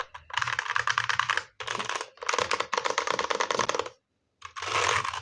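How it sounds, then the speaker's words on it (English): Dense bursts of rattling, clacking plastic as keycaps are pried off a computer keyboard, several loud close clusters separated by brief silences, with no talk. "I will be removing all the keycaps from this keyboard."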